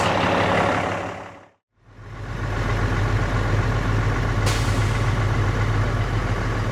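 The air system of a dump truck letting off a loud, steady hiss of air at compressor cutout pressure. A brief gap cuts the noise, then it runs again over the idling engine, with a sharp click partway through and no talking.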